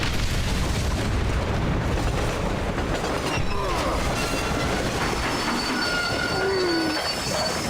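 A train in the Red Dead Redemption video game rumbles loudly along the rails, with continuous heavy rolling noise and squealing wheels throughout.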